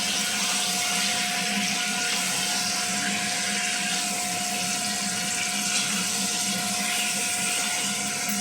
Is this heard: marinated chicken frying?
yes